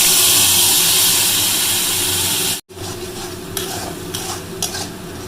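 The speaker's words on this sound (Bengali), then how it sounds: "মাছ ভাজার তেলে কালো জিরা দিয়ে দিলাম, এখন এই যে সর্ষা, পোস্ত আর লঙ্কা বাটাটা দিয়ে দিব।" Mustard, poppy seed and chili paste frying in fish-frying oil with black cumin, stirred in the pan: loud, close, continuous sizzle, a brief cut partway through, then quieter sizzling with sharp scraping strokes.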